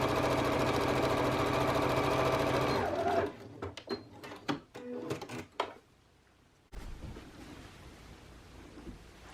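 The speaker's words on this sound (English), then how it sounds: "as I'm sewing these sides together at a 1/4 of an inch seam allowance" A sewing machine stitches the sides of a scrunchie together at a quarter-inch seam, a loud steady whir for about three seconds, then scattered clicks and pauses and a softer hum near the end.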